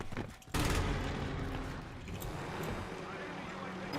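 Gunfire in Warzone Pacific bursts in with a loud blast, then continues as a dense, rumbling spread of distant shots and game noise while someone talks over it.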